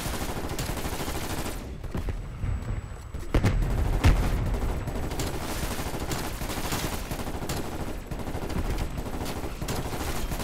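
Gunfire in a video game, with repeated shots and bursts of fire, some rapid and machine-gun-like, running throughout at a moderate distance.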